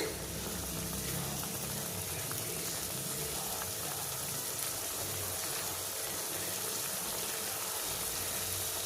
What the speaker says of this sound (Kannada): ಇದೊಂದು ಸ್ವಲ್ಪ ಕುದಿಲಿಕ್ಕೆ ಬಿಡೋಣ.